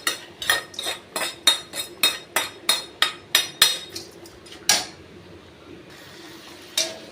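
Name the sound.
sautéing in a pan with clinking utensils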